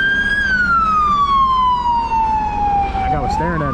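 Loud, close police car siren wailing in a long, slowly falling sweep before switching to a rising yelp, heard from a street in Los Angeles over steady road noise.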